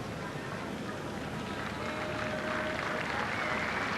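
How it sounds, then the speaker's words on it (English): Football crowd at a Sydney United v Sydney Olympic NSL match applauding a substituted player, a steady wash of distant clapping and crowd noise throughout, with a commentator talking over it. "Some warm applause from the United fans as Joe Caleta is introduced"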